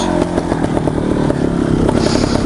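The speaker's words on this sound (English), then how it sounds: "I just kind of tried to slip the clutch and let the flywheel kind of do the rest, but I had to get more gas" Trials motorcycle engine revving loudly and close as the rider slips the clutch, a continuous raspy, buzzing roar with rapid clattering pulses and slight rises in throttle.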